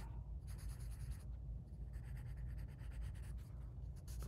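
A pencil sketches still life objects on paper, giving a close, quiet, steady scratching of strokes that pauses briefly and then carries on.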